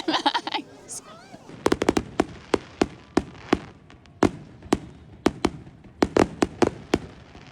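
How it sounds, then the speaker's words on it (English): A small free town fireworks display pops and bangs in a quick, irregular string of sharp crackling bursts, a few close together, with people's voices briefly at the start. "wasn't the best firework display I've ever seen"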